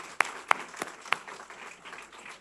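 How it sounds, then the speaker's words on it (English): A sparse handful of sharp individual claps rings out from a small audience at the announcement of Atlanta United FC's DeKalb County training facility, fairly quiet and thinning out over a soft room background. "Now, give him a round of applause."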